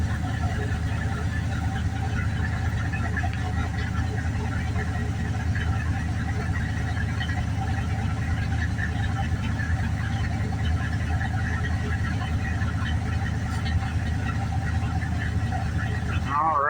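A Dodge pickup truck idles roughly right after a cold start without a choke, a close, steady, uneven engine drone that holds throughout.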